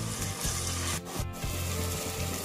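Onion and tomato sauté in a pan with salt, giving a steady, loud frying hiss broken by occasional stirring scrapes and a brief pause.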